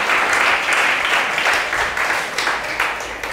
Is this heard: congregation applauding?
yes